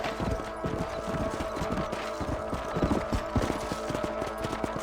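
Horse hooves clip-clop steadily at a ride's pace in the Red Dead Redemption video game, a close, regular rhythmic clatter of many hoofbeats with no talk over it.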